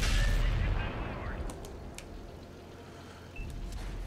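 A tank cannon shot strikes an E75 in World of Tanks: a loud blast opens, then a rumbling decay and a second thud near the end.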